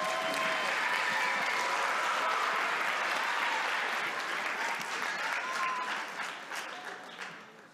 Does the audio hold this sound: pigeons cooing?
no